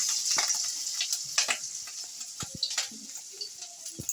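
Besan fritters made with peanut and rice paste frying in oil in a wok, a steady bright sizzle with scattered pops and light clicks of a utensil, close and continuous, no voices.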